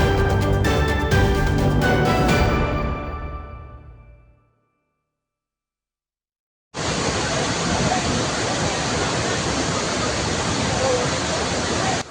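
Waterfall at Curug Kalong in Pagardewa, Lampung Barat: a loud, steady broadband rush of falling water that fades out, leaves a gap of silence, then returns at full strength and holds steady to the end.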